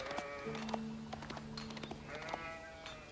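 Sheep bleating in the Age of Empires strategy game during a tournament final, with a couple of clear, nasal bleats over a faint steady game backdrop.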